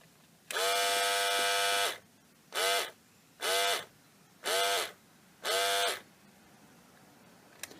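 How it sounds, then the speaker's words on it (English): An old Conair electric razor with a short in its cord runs in a loud, harmonic buzz. One long burst is followed by four shorter ones as the motor cuts in and out. "This old Conair razor still works pretty well except for one problem."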